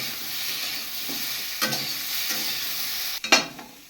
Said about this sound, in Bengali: ওর সঙ্গে আমি যে আলুটা একটু নুন হলুদ দিয়ে ভাপিয়ে রেখেছিলাম, ওইটাও একটু ভেজে নিচ্ছি